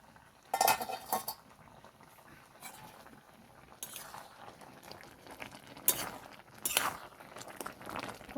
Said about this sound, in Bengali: এখন আমি চাপাটা খুলে দেখে নেব সেদ্ধ হয়েছে কি না।